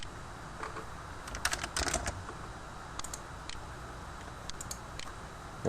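Someone types on a computer keyboard while entering values into engineering software. A few short clusters of quiet, close key clicks are separated by near-silent pauses, and no one speaks.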